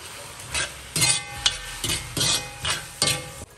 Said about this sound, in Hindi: और इसको हल्के से स्टेयर करना है, सौते करना है।